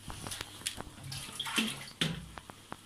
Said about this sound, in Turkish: Buraya suyumuzu ekleyelim